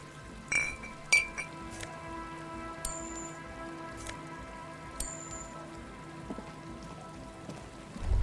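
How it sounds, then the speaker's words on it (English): Rain in the video game Disco Elysium comes through as scattered drips and glassy clinks at irregular intervals, set over a faint sustained musical hum with no talking. "Oh, it's raining."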